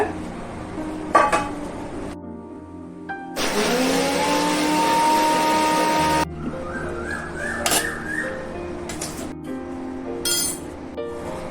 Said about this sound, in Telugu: అన్ని దగ్గర పెట్టి మెంతులు మిక్సీ పెట్టుకుందాం మెత్తగా